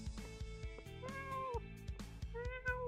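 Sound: person imitating a cat meow

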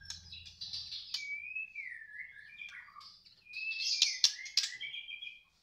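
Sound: trotolan bird calling

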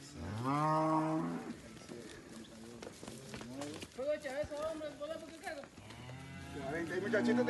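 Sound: cattle mooing

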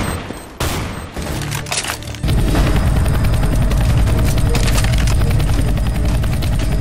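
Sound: gunfire from windows in Counter-Strike: Global Offensive video game

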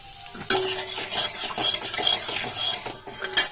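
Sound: whole cumin seeds sizzling in a hot wok

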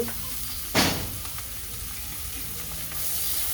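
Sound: frying onion and egg bhuna

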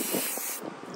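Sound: spray paint can spraying metallic gold onto water

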